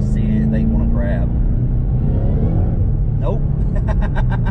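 Ford Shelby GT500 on F1 tires on a cool 52-degree day, its engine rumbling loudly as it accelerates, with a rising high supercharger whine building toward the end.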